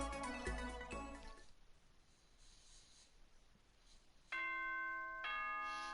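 An announcement chime from the Danganronpa video game rings out as a short run of clear, tonal bell notes near the end. It comes after a brief burst of music and a quiet stretch.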